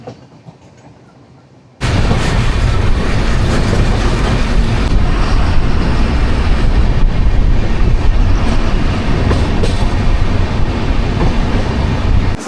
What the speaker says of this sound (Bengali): আমাদের এই ট্রেন নাম্বার 12378 পদাতিক এক্সপ্রেস এসে পৌঁছলো বর্ধমান জাংশনে